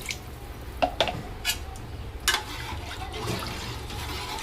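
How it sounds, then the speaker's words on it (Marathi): Water is poured into dal for an aamti in a home kitchen, a short run of splashes and clinks of the vessel followed by a steadier liquid pour, close and moderately loud. "त्या हिशोबाने आपण पाणी टाकूया"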